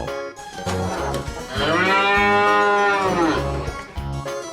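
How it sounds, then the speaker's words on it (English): A cow gives one long, loud, close moo that swells in the middle and fades out, over a rhythmic background music track. "Cow."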